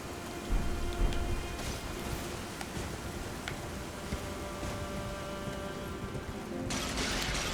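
Steady rain falls in the Elden Ring DLC, a continuous hiss of drops with low rumbling beneath, holding level throughout and brightening near the end.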